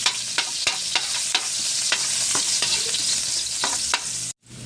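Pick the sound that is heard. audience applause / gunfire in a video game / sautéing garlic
sautéing garlic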